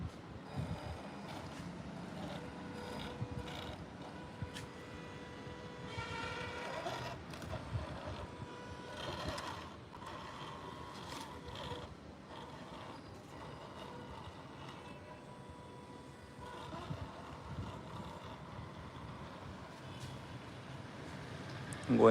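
An RC crawler car drives steadily under throttle outdoors, giving a continuous whirring motor drone with gusty wind noise throughout and no talk.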